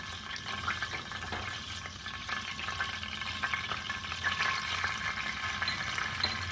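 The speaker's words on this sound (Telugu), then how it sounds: "ఈ విధంగా ఆయిల్ వేసి ఫస్ట్ 1/2 టీ స్పూన్ జీలకర్ర వేద్దామండి." Half a teaspoon of cumin seeds frying in hot oil in a pan on the stove makes a steady, close crackling sizzle with scattered small pops throughout, and no talking.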